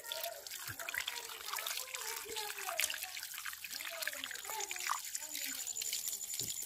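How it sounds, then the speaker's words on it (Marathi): Running water washing chicken liver and giblets, a steady trickle and splash with someone talking over it. "काळीज वगैरे पूर्ण चांगला धुवून घेतो"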